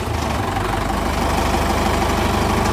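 A Mahindra 575 XP Plus 47 hp diesel tractor, hitched to a nine-tine cultivator, runs at a steady idle, its low knocking engine rumble loud, close and unbroken throughout.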